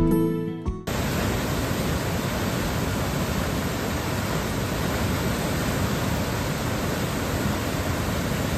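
Flood water rushing steadily across a crossing in Zamboanga del Norte, a loud, dense roar that starts abruptly after a brief muffled moment and holds unbroken to the end, with no voices over it.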